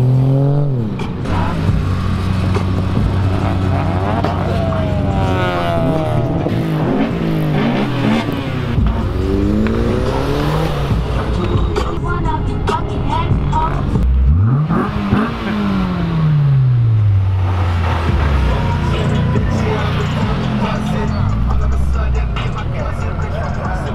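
Cars lap a race track at the JapDays car event, engines revving up and down in repeated rising and falling sweeps, loud and close, with several passes overlapping.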